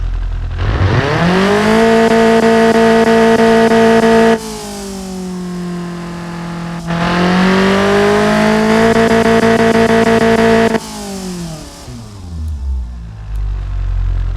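A Toyota 2T-G 1.6-liter car engine in the game Automation idles, then revs up and holds a steady high drone, drops back, revs again, and settles to a rough idle; loud and close.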